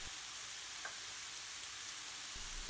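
Turmeric and curry powder fry in oil in a pan for a British Indian restaurant-style balti, producing a steady, soft sizzle with a faint clink of stirring near the end.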